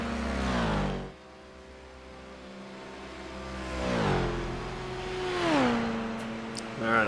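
Race car engine in a sim racing game at Le Mans, a buzzing, revving drone that dips and then climbs in pitch as boost is applied, steady and fairly close, with commentary over it.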